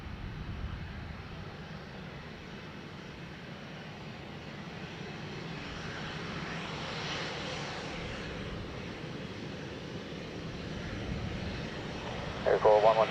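An airplane lands at Dublin Airport, a steady distant roar of engines that holds fairly even throughout with a brief louder bump near the end.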